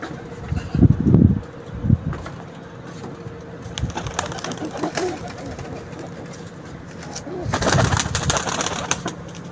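Pigeons cooing in a loft: low throaty coos in short bursts near the start and again toward the end, with scattered fluttering, clicks and faint background noise between.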